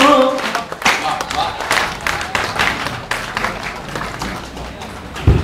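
Audience applause at a kavi sammelan poetry gathering held for a Ramleela festival, a sustained spatter of many clapping hands with irregular louder bursts and crowd noise mixed in, a thump near the end.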